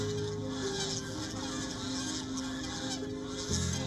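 Geese honk repeatedly on a poultry farm at a Rohingya refugee facility in Bangladesh, a dense, overlapping flock chorus at moderate distance with steady background noise.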